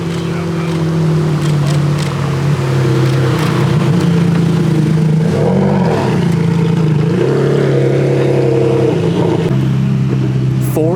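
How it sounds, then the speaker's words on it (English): A Ferrari 488 Challenge race car rolls along a road at the Cavallino Classic Ferrari gathering. Its engine drones loud and close with a steady rumble, and the pitch rises and dips over the stretch against wind noise. ".488 Challenge race car."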